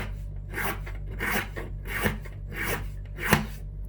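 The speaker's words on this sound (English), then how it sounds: "the activation rod a bit of a file. Get rid of any raised surfaces." A hand file rasps over an activation rod for a 737 engine start switch, smoothing off raised spots. It makes five or six even back-and-forth strokes, close up, over a low steady hum.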